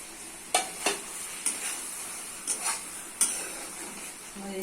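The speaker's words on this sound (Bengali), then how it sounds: "ঝিঙ্গা আলু অনেকটা জ্বরে গেছে এইভাবে কষে কষে রান্না করে নিতে হবে" Ridge gourd and potato pieces are sautéed in a pan, the spoon scraping and clinking against the metal every second or so over a faint, steady sizzle.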